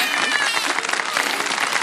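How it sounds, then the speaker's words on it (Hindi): Studio audience applause fills a televised Ramadan kids' segment, a dense, steady wash of many hands clapping close and loud throughout, with a little voice mixed in. "तालियां तो बजा दें एक बार।"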